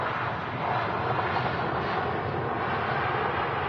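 Airliner touching down on runway 05L at Manchester Airport, heard from a runway-side viewing park as a steady, loud broadband roar of engines and rushing air filling the whole moment, with no talk over it.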